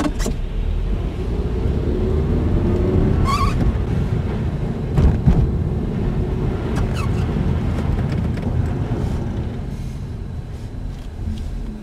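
A manual transmission car pulls away on a hill, its engine a steady low rumble inside the cabin with wind noise and a few faint clicks, no voices heard.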